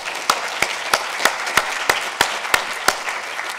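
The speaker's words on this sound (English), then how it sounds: "let's give them a warm round of applause" Sparse, evenly spaced claps ring out for university staff at a welcome event for a computer science program, about ten sharp hits over a steady wash of room noise, as if only a few people are clapping.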